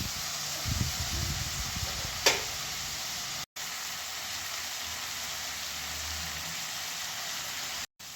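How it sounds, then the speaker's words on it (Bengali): Spices and turmeric fry together in a pan with a steady, dense sizzling hiss throughout, plus a single faint clink early on and a couple of brief dropouts. "সব কিছু একসঙ্গে খুব ভালো করে ভেজে নেব"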